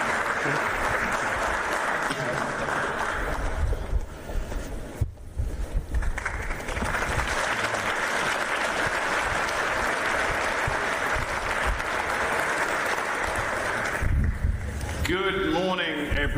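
Sustained applause fills a packed conference hall as an audience welcomes a panel at a NATO event in London, dense and steady for most of the stretch, with a brief lull and some voices near the end.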